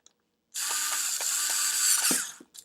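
A GoGonova cordless screwdriver drives tiny screws with a high whirring motor buzz carrying a rapid clicking ratchet pulse, starting abruptly, running about two seconds up close, then stopping before a brief final burst.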